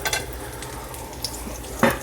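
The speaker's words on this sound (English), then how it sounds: "toast, and that's gonna sizzle" Toast sizzling as it hits canola oil in a hot pan, a steady frying hiss with a few stirring scrapes and a louder burst near the end.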